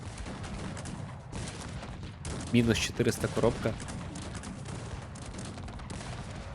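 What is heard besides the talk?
cannons firing in the video game Cossacks 3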